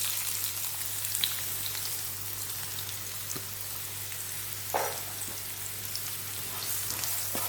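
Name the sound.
chopped onion frying in oil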